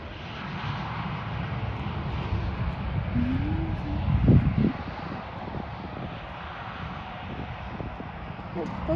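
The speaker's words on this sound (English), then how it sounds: "You can see all the water being sprayed by the reverse thrust off the runway." A jet airliner landing on a wet runway at Buffalo with reverse thrust, a steady distant engine roar with a louder surge midway, heard outdoors with wind and some talk.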